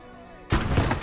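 Big guns boom in a World War II video game set among hedgerows: after half a second of quiet, a sudden loud broadband blast hits, followed by rolling, rumbling firing that continues to the end.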